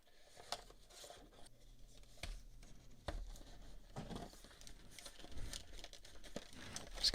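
A cardboard box being torn and yanked open by hand during unboxing: quiet crinkling, scraping and ripping at close range, with a few sharper pulls near the end.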